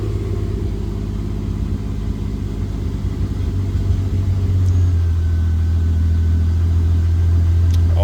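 A Chevy Trailblazer engine runs steadily with a deep, loud rumbling idle and a low hum that thickens and strengthens partway through, with no voices.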